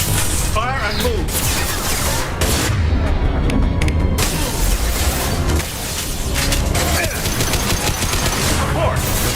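Mass Effect 2 combat, with dense automatic gunfire and booming impacts rattling continuously and loudly through the whole stretch while voices call out over the battle.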